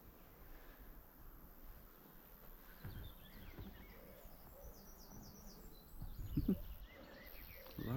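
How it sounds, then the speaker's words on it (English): Birds sing faintly in the distance in outdoor woodland, with thin chirps and trills scattered over a soft, steady background hum, somewhat more active in the later seconds. "You can hear lots of birds."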